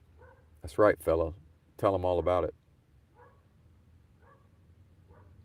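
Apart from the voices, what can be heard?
dog barking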